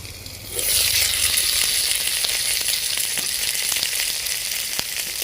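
Small mourola fish paturi wrapped in bottle gourd leaves frying under a lid after a sprinkle of water, a loud bright sizzle bursting up after a quiet start and holding steady with faint crackles, close by and without speech.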